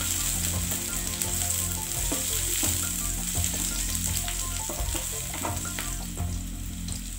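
Chilies sauté in a pan for stir-fried genjer with mushrooms, giving a steady, close sizzle with scattered spatula clicks and scrapes throughout and no speech.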